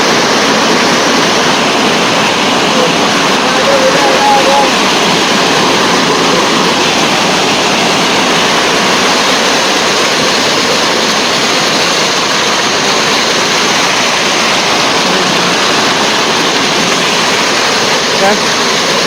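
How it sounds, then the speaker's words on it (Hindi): Fast-flowing mountain stream on a pilgrimage trek, crossed at night, a loud, continuous roar of rushing water filling the whole clip with no break. "ये नाला क्रॉस कर रहे हैं। रात के समय पानी का बहाव काफ़ी तेज़ है।"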